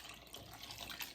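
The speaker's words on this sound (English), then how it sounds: "we're adding the 2 cups of water" Water pours steadily into a pot of cranberry sauce, a soft, continuous splashing trickle heard close and alone for about a second.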